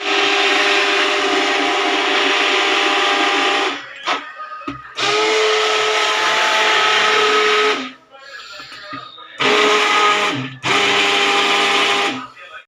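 Cream is churned into butter with an electric churner, a steady loud whirring hiss running in long bursts that stop and restart, with faint scraping in the pauses.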